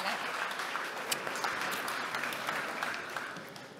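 A crowd at the Tecnológica24 event in Santa Cruz de Tenerife keeps clapping as a speaker takes the stage, quiet, steady applause with a few sharper claps and a voice speaking over it.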